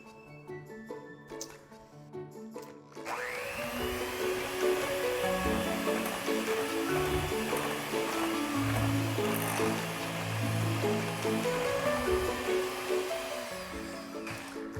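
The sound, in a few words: mixing gingerbread cookie dough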